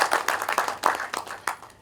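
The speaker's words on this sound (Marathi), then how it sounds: "आपण त्यांच्यासाठी टाळ्या वाजवून त्यांचा अभिनंदन करतो." Audience applause at a prize distribution ceremony for a Marathi one-act play competition: a run of sharp, closely spaced claps that rise and fall in loose bursts for about two seconds, with no talk over them.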